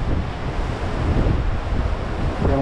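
Strong wind buffets the microphone while surf roars steadily in Bermuda during Hurricane Erin, a loud, continuous wash of wind and waves with no talking.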